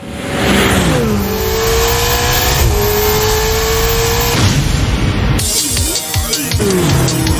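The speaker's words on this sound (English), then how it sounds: "And the Ferrari takes off!" A Ferrari race car at the Odawara Pikes Peak mountain race accelerates hard, engine revving loud and close through rising gear pulls with a gear change near the end, heard alone with no talk.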